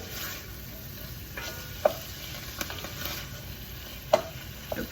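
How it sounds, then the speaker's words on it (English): Chopped steak frying in a skillet, a low steady sizzle with occasional sharp scrapes and clinks of a utensil stirring the meat, close and quiet. "A good old chopped steak. And we're just gonna stir it, stir it, stir it."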